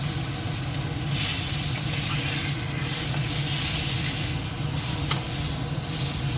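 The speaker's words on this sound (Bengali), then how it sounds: "মাথাটা ভাজা হয়ে গেছে" A fish head fries in oil seasoned with cumin, turmeric and salt, giving a dense, steady sizzle and hiss close up with occasional stirring scrapes, uninterrupted and without speech.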